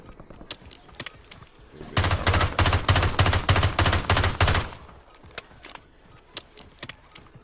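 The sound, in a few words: pistol gunfire in a video game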